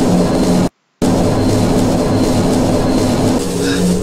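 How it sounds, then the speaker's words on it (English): Loud, rumbling train noise in the video game Cry of Fear, with rhythmic clatter rushing past at close range, interrupted by a brief dropout of silence near the start. "Another fucking train!"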